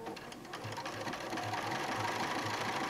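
A sewing machine runs a straight stitch on a quilt made from a pre-printed laser-cut pattern, its needle ticking in a fast, steady rhythm that sounds close and continuous, with no talking.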